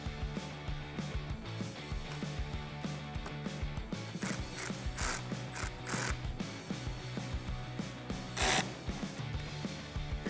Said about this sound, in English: with a 10mm socket, go ahead and tighten them down